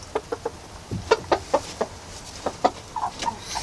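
A rooster on a farm clucks softly while being petted, giving a string of short, close, low murmuring clucks spaced irregularly with brief pauses, fairly quiet and alone.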